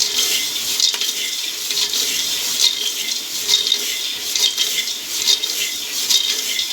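Continuous gritty scraping and rustling as chickpeas are stirred through hot sand and salt, a steady dry hiss with rhythmic swishes and no speech.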